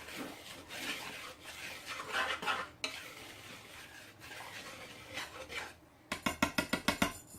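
Ginger cookie ingredients are stirred and whisked together in a bowl, a close scraping, swishing mix with irregular strokes, ending in a run of quick rhythmic taps against the bowl.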